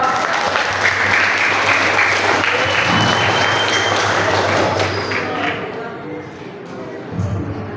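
A school audience at an orientation alumni session bursts into loud, dense applause that holds steady for several seconds, then thins and fades away toward the end.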